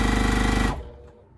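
Sewing machine chain piecing quilt blocks, a close rapid even rattle of stitching that runs steadily and then stops abruptly partway through, leaving a quiet room.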